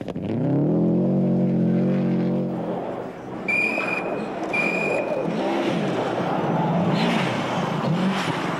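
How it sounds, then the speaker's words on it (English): A Subaru rally car races along a snowy Rally Sweden stage in sub-zero cold, its engine revving and shifting loudly up close before fading into a rough, rumbling drive with brief high tones. "Carlos Sainz in the second of the Subarus was pushing just as hard"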